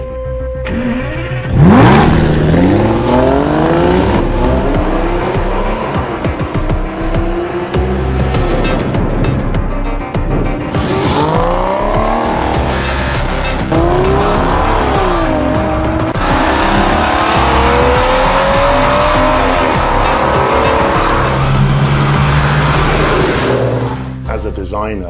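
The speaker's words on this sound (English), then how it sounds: "There is nothing like the sound of a DB9 when you first fire the engine." Aston Martin DB9 engine firing up and revving, a loud close bark at startup followed by repeated rising and falling revs that rumble on for over twenty seconds.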